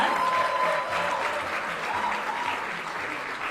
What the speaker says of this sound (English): Let us give a round of applause to all the graduates of the culinary class.